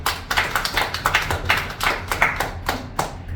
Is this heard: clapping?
yes